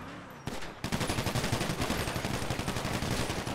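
Rapid automatic gunfire from a GTA RP game, a dense run of sharp repeated shots starting abruptly after a brief burst and continuing loud and steady to the end.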